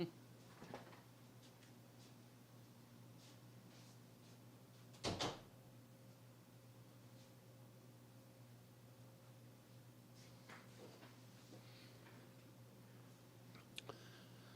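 A room door, left open while an air conditioner runs, is shut with a single sharp thump about five seconds in, heard against a steady low hum and hiss, with a few faint knocks and rustles later.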